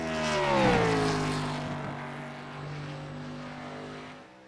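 A Cup Series stock car at full throttle on a qualifying lap at Nashville, its engine roar loud and close, then dropping in pitch as it sweeps past and fades into a steady drone farther away.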